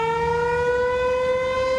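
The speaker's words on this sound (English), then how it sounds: "We're hearing the storm warning siren sounded over there." A storm warning siren outside Whitestown in Boone County wails steadily, a sustained loud tone held throughout the short stretch.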